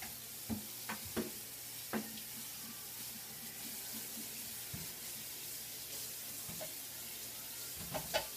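Shrimp sautéing in a pan for a lemon and shallot sauce, a quiet steady sizzle running under a few sharp clinks and taps of a utensil against the pan.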